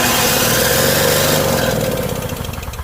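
A two-stroke Yard Machines snowblower engine buzzes loudly for a moment, then its note stumbles and turns into an uneven, sputtering putter as it starts to die. It is close, with no one speaking.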